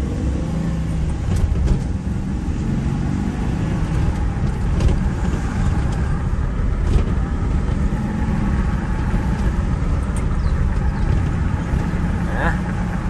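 A Ford Ranger pickup truck's engine rumbles steadily at low pitch as it rolls along, with faint squeaks and rattles throughout from worn ball joints.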